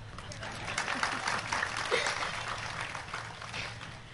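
A Tamil debate audience at a pattimandram in Jaffna claps loosely, a steady mid-distance patter of applause with a voice speaking over it.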